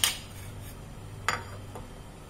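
A spoon clinks against a bowl while mango powder, coriander powder, ground cumin, chilli and salt are mixed for a veg burger: one sharp clink at the start, then two fainter taps a second or so apart, over a quiet background.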